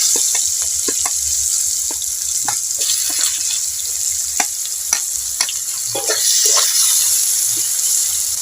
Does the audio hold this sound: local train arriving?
no